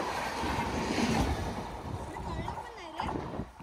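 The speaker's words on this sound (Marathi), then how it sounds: "ही दुसरी ट्रेन आपल्याला दिसलेली आहे" A train on the Konkan Railway rumbles past close by, a steady, loud roar of wheels and carriages that holds throughout, with someone talking over it.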